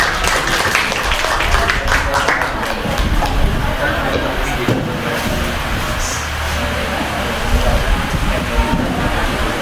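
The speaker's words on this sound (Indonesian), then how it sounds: "Kita berikan aplaus Bapak dan Ibu." Audience applause at a halal bihalal family gathering: a steady, dense wash of clapping lasting throughout, with crowd murmur and voices mixed underneath.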